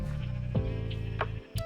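Sheep bleating in Minecraft on a wool farm, several loud, close, drawn-out bleats one after another with short gaps, no talking.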